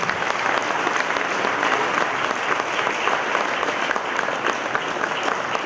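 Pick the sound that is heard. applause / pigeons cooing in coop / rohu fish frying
applause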